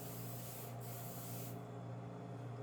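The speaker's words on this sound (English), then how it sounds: "I'm going to put this off to the side so I can spray my pan." A cooking spray can misting oil onto a baking pan during cake batter prep, a steady continuous hiss lasting a couple of seconds, close and fairly loud, with a brief interruption partway through.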